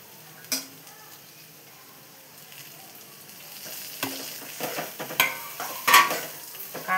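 Bitter gourd frying and being stirred in a pan, with a soft steady sizzle broken by several louder scraping stirs that grow busier toward the end, close by and with no talking.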